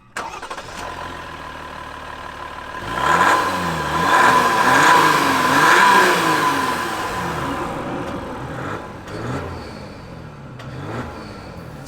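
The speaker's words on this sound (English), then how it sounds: "It's super loud from the outside with that diesel" A 2020 Jeep Wrangler JL's diesel engine heard from outside, starting and idling with a loud, steady rumble, then revved in a few rising and falling surges before settling back to idle, with no talking.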